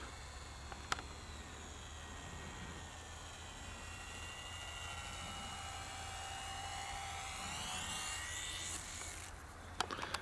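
A small Eachine Mini P-47D Bubbletop RC warbird, a 500 mm foam EPP airplane, flies past with a thin, high electric motor whine that holds steady, then shifts in pitch as it passes, ending in a few clicks.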